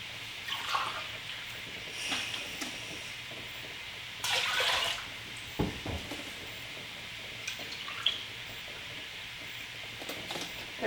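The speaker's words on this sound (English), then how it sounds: "we're going to pour 4 cups of apple juice" Apple juice pours into a pot for jelly in a few short, faint splashing bursts, separated by quiet pauses with small clinks and drips.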